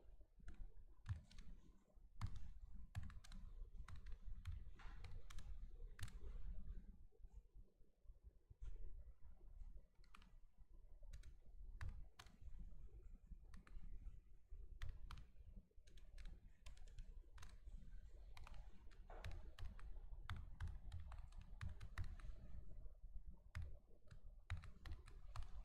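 Fast irregular clicking of a computer keyboard as someone types code, close and quiet, with sharp key strikes over a low hum and no talk.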